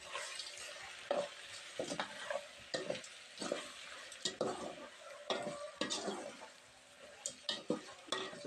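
A spoon stirs chicken with turmeric in a cooking pot for chicken biryani, a close series of irregular scraping and clinking strokes over a faint sizzle, with no talk.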